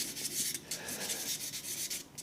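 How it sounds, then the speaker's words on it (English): Sandpaper rubbing across a wooden shaving brush handle turning on a lathe, a quiet scratchy rasp that swells and fades in repeated strokes. "that's just basically with the sanding in different directions rather than radial on the lathe"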